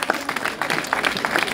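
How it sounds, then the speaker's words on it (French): A crowd at a road race prize ceremony claps in a brief, steady burst of applause heard at moderate distance. "Je vous demande d'applaudir"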